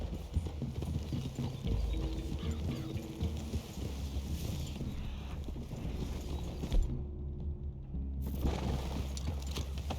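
Horse hooves in the video game Red Dead Redemption II clip-clop steadily at a walking pace, fairly close, with faint ambient background and a brief quieter gap near the end.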